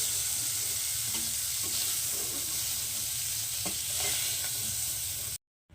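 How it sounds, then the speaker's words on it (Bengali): Small shrimp sizzle loudly in oil in a wok, a steady close frying hiss with occasional stirring scrapes, cutting off sharply near the end. "হালকা নাড়াচাড়া করে নিয়েছি এবার এটাকে আমি তুলে নেবো"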